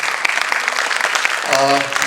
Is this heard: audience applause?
yes